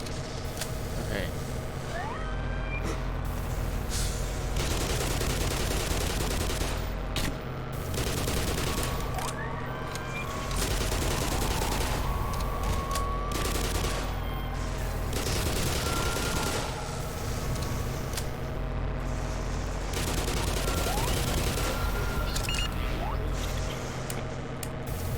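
Video game gunfire crackles in long, dense bursts of rapid shots throughout, loud and continuous, with mechanical clatter and engine-like rumble underneath.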